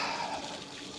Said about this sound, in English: my feet are definitely getting splashed a little bit